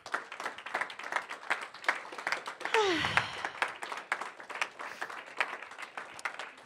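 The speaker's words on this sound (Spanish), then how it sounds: "Damos un aplauso al Señor" Congregation at a church service clapping, separate distinct hand claps in an uneven rhythm, with a brief descending whistle-like tone and a low thud midway.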